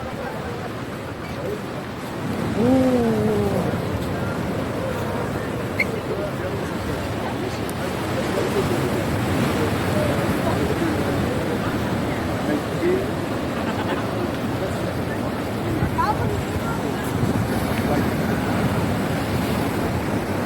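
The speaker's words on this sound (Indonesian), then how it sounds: "Cemana kalian dengar suara laut itu" Sea waves roll in at Lot beach in Bali, a loud, continuous surf wash mixed with wind buffeting the microphone, while people talk nearby at times.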